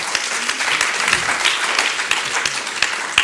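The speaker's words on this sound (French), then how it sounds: "Applaudissements pour lui donner un peu de courage." An audience at a legal conference applauds steadily, a dense, sustained wash of clapping at moderate distance with a few sharper individual claps.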